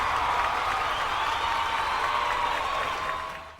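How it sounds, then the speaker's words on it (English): Steady applause from a studio audience during a quiz show, a dense continuous wash of clapping that holds even and then tapers off at the end. "I'll give you a clap for that."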